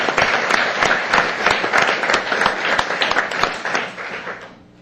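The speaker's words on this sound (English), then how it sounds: "A round of applause again" Applause at a Sparks city council meeting honoring a girls' team, a room of people clapping briskly and unevenly for a few seconds before trailing off.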